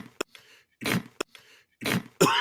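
Repeated coughing sound effect played to cut someone off, a pair of short coughs twice in quick succession, close and dry, followed by a brief burst of noise.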